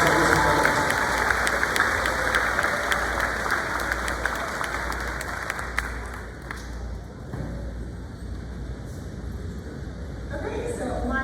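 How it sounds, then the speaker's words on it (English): Loud, sustained audience applause at a middle school 7th grade awards ceremony, dense clapping from a crowd that gradually thins and fades, with some voices mixed in. "Let's give them one big round of applause for those congratulations."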